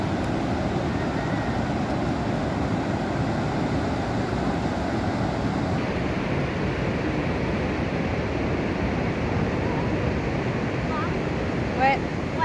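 Ocean surf on the Oregon coast rolls in as a steady, loud roar of breaking waves, with wind buffeting the microphone throughout and a brief faint bird-like call near the end.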